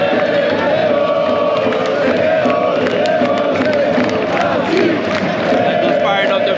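A stadium crowd roars in a FIFA 2022 World Cup video game match between Brazil and Croatia, a dense continuous wall of cheering and chanting that stays loud throughout, with faint commentary mixed underneath.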